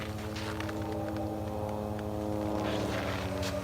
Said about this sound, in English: Finally hearing that plane.